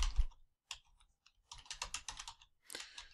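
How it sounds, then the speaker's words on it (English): Someone typing a search term on a computer keyboard, bursts of quick close clicking keystrokes separated by short pauses, quiet and with no speech. "I'm going to type in a term that we're going to search for"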